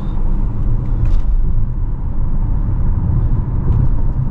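A 2024 Lexus RZ300e front-wheel-drive electric car with 200 horsepower accelerating at full throttle up an entrance ramp in eco mode, a steady loud low road-and-motor rumble from inside the cabin, with no voices.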